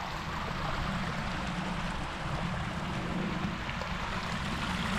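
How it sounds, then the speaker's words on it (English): Swimming pool jets churning the water surface, a continuous loud rushing and burbling wash with no breaks, heard alone without any talk. "I always turn my jets on where they're kind of shooting up."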